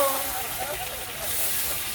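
Pork frying lightly in hot oil in a pan, a steady broadband sizzle and hiss filling the whole stretch with little change in level, while faint voices murmur underneath.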